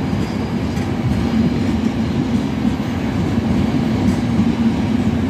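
A regional train pulls into platform 5 at Roma Tiburtina station, a loud steady rumble of wheels on rails with faint clatter throughout.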